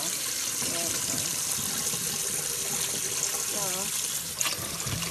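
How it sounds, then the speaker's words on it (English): Cold tap water running into a sink to rinse cooked noodles, a steady gushing stream with slight splashing, close by, while a person talks over it briefly. "I'm rinsing with the cold water"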